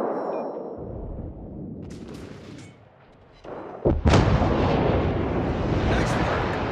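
Naval guns fire in World of Warships during a tier 6 clan battle: a deep rumble, then heavy booming salvos that swell into a loud, sustained roar of blasts.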